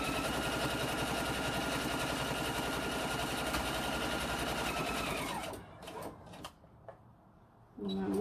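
Sewing machine stitching fabric for a face mask runs as a steady, loud mechanical whir for about five seconds, then stops, leaving a few quiet handling clicks and a brief rustle at the end.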